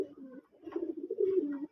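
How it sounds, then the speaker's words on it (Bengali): Pet pigeons at a home pigeon farm in Manikganj give soft, low cooing calls close by, two or three rolling coos in quick succession. "আমার কিছু শখের কবুতরগুলি দেখুন"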